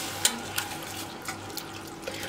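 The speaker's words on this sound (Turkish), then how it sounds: "1 su bardağı soğuk su tekrar ekledim" Cold water, about one cup, poured into a pan for zucchini soup on a low stove, a steady close splashing stream with a few brighter spatters, no talking.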